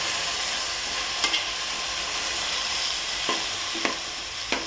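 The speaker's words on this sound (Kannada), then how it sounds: "ಟೊಮೆಟೊನೂ ಹಾಗೆ ಚೆನ್ನಾಗಿ ಫ್ರೈ ಆಗಬೇಕು" Three cut tomatoes fry in a pan for chicken sukka with a steady, loud, close sizzle and hiss, plus a few faint clinks of stirring.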